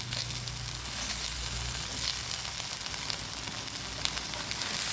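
Kallur fish frying on a hot tawa with yellow leaves, a dense, steady sizzle and crackle of oil filling the whole stretch, close and loud.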